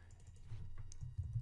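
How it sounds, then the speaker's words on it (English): Soft clicks of typing on a computer keyboard, a handful of quiet, irregular keystrokes heard close up against a low hum. "And now you can start typing whatever you want."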